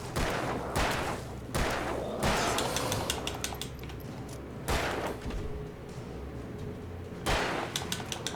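Gunfire in the video game Alan Wake: a series of loud, sharp shots with decaying tails, spaced irregularly across several seconds and heard alone without talk.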